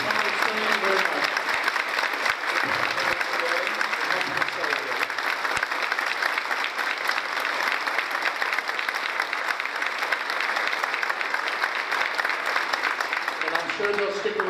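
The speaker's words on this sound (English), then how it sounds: "how about another round of applause for our performers" An audience applauds performers at a piano dedication ceremony, with dense sustained clapping that fills the room and runs steadily for the whole stretch.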